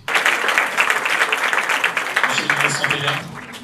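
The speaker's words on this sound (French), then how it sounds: "Ces applaudissements marquent donc le clap de fin." Applause at an international press conference, dense, loud clapping from many hands sustained for several seconds before tapering slightly at the end.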